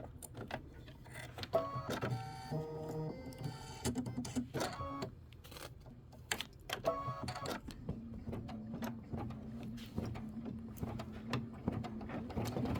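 A Kimberbell embroidery machine stitches an appliqué placement line for a heart, making a quiet, rhythmic mechanical whirring and tapping with changing motor tones throughout.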